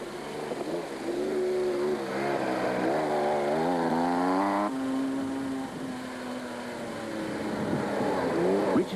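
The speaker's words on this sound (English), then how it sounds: "leaders Bix Carolyn and Kenny Scholthammer the first of a string of cars and motorcycles that were to disturb his morning." Off-road race cars and motorcycles at the 1992 Caledon 500 pass by, a steady engine drone that rises and falls in pitch as the machines rev and shift, fairly close and continuous, with a narrator speaking faintly over part of it.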